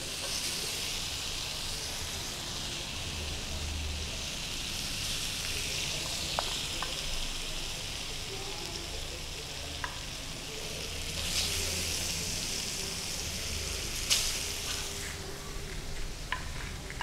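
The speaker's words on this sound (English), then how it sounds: "We are just pan searing it." Food pan-searing in a little sunflower oil, a steady moderate sizzle and hiss with occasional faint ticks and pops throughout.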